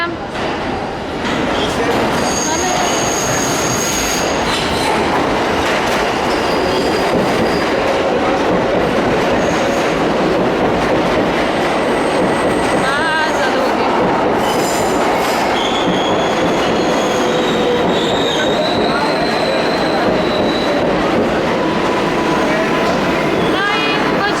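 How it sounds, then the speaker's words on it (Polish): A New York commuter train heading toward Grand Central arrives and rolls past, a loud sustained rumble with clattering wheels and repeated high metallic squeals, while people talk nearby. "Tu będzie jechał nam choo train. Coś jedzie, coś jedzie. O, jedzie."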